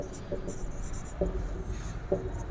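Chalk or marker writing on a board during a thermodynamics lecture, soft scratchy strokes in a few short bursts beneath a faint room hiss, close and quiet.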